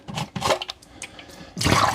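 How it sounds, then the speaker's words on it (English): Water from the dirty water tank of a Dyson wet-dry vacuum pours out in splashy gushes, pausing briefly before a louder, steady stream of draining liquid at the end. "Okay, so here I have the dirty water tank. We want to empty it out."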